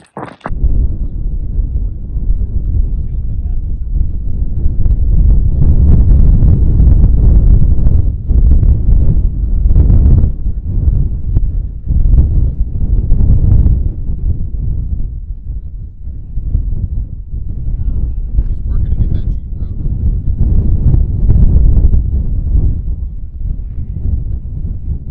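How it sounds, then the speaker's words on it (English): Strong desert wind buffets the microphone in rough, rumbling gusts that surge and ease throughout, loud and close, during a trophy truck race. "It's so windy out here, guys."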